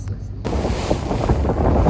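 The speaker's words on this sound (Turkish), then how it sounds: "an çok dalgalı bir denizdeyiz." A boat out on a very rough, wavy sea gives a steady, loud wash of wind and churning water that rushes on without a break after a brief quieter start.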